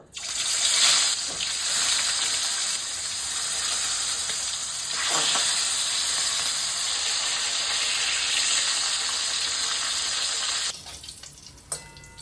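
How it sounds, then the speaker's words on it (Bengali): Snakehead fish seasoned with salt and turmeric sizzles steadily in hot oil in a pan, a loud, continuous frying hiss for most of the stretch before it drops away near the end. "তেল গরম হয়ে গেছে, শোল মাছটা দিয়ে দেবো"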